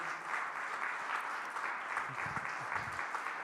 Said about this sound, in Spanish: Dale un aplauso, dale la gloria a su nombre.